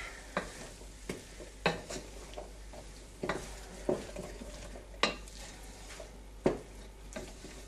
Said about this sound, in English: now we're gonna stir this all together